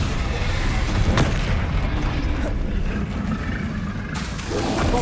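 Confringo explosive spell blasts in Hogwarts Legacy on PS5, a dense, loud rumbling boom that keeps roaring over five seconds with sharper bursts along the way and a faint voice in the background.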